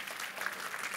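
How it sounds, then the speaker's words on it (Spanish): Audience applause for a speaker named Alicia at a school orientation-day talk on science and technology: a dense, steady wash of many hands clapping at even loudness for its full second. "Os pido, por favor, un fortísimo aplauso para Alicia."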